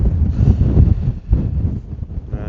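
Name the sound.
strong gusting wind on a mountain top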